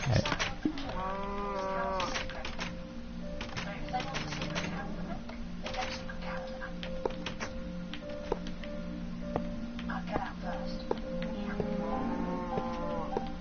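Cows mooing in the Minecraft video game, several drawn-out moos near the start and again near the end, over a steady background hum with scattered clicks and quiet talk.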